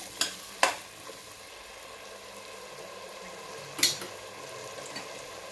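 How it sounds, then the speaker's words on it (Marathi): Potatoes sauté in a pan for pav bhaji under a faint background sizzle, punctuated by a few sharp clatters of the spoon against the pan: two close together early on, then another later. "बटाटा घातल्यानंतर बटाटा चांगला यामध्ये आता परतून घ्यायचा आहे बघा."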